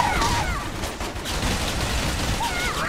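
Rapid gunfire bursts in the video game Gunz 2, a dense continuous crackle of shots with faint whooshing effects, loud and close.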